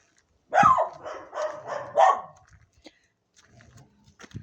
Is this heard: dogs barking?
yes